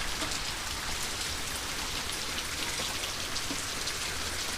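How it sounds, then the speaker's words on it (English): Steady rain pours down on a hard surface in Texas, a dense continuous patter with no voices, fairly loud and even throughout. "It's been raining all day, by the way, here in Texas."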